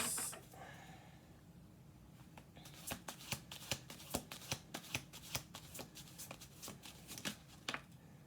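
Tarot cards being shuffled up close: a steady run of crisp, papery riffles and flicks that grows more rhythmic and distinct after the first few seconds, with faint breathing in the background.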